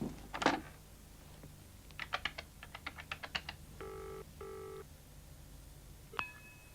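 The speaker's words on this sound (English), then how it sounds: "I just want to give Mum a quick ring at home." A telephone is dialled in a 1995 crime reconstruction. A run of quick button clicks is followed by two clear paired dial tones, then a brief click, all close and quiet.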